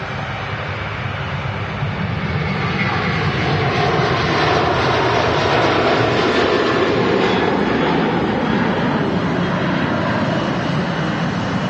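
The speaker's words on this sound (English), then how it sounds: "Aer Lingus A330 now rolling" Aer Lingus Airbus A330 on its take-off roll at Manchester Airport, a loud continuous engine roar holding steady and slowly building in strength, with no voices.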